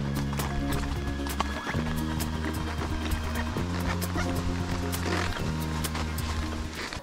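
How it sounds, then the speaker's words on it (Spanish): Several horses clop steadily over ground on a ride along a trail in a park, their hoofbeats near and constant. A loud droning tone runs underneath, and a dog can be heard faintly. "ahorita vamos a ir un recorrido con los caballitos por el Chaquiñán."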